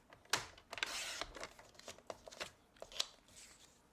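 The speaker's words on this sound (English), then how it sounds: "We're going to turn this and cut it at 2 inches." A paper trimmer cuts card stock, heard as a quiet blade swish followed by sharp clicks and light paper rustles close by.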